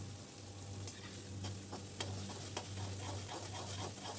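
Masala paste and potatoes fry in oil in a pan for a Bengali-style cabbage potato masala, a low steady sizzle broken by several sharp scrapes and clinks of a spoon stirring, close and moderately quiet, with no talking.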